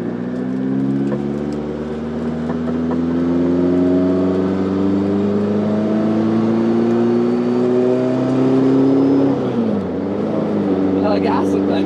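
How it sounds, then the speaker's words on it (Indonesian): Caterham heritage British sports car engine revving while driving, a loud droning note that climbs steadily in pitch over several seconds, drops sharply at a gear change, then starts rising again, with people talking over it. "Ini tuh mobil heritage dari mobil balap buatan Inggris zaman dulu."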